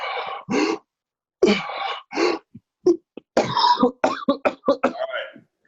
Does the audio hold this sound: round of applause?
no